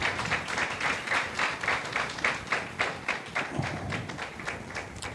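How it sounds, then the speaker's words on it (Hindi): Scattered, thin applause at a Bible college graduation ceremony, uneven claps and taps continuing steadily at moderate distance without a strong swell. "तालियां कम हो गई हैं"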